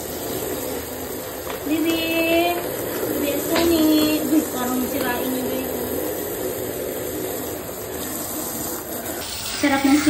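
Continuous hiss of shower water spraying while a pet is being showered, close and steady, with a person talking over it.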